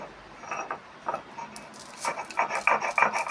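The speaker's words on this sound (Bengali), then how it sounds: "এখানে তিলটা এবার বাটবো, তিল কাঁচা লঙ্কা দিয়ে একবারে বেটে নেবো" Sesame seeds and green chillies being ground by hand on a stone, a series of short scraping, rasping strokes that grow louder and quicker toward the end, close by.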